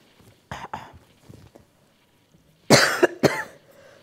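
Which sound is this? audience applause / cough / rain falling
cough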